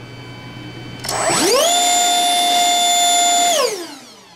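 An electric ducted fan jet motor spools up from a quiet start into a loud, rising whine. It then holds a steady high-pitched scream at full throttle for about two seconds and winds back down at the end.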